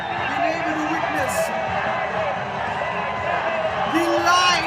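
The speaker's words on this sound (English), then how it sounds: "it's a brilliantly passionate crowd who have cheered their team on" Home crowd at a Shillong Lajong FC I-League football match, a steady roar of cheering and whoops filling the stadium, with indistinct shouts and voices mixed in throughout.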